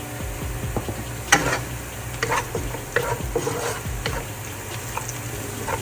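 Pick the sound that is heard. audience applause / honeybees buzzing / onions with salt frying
onions with salt frying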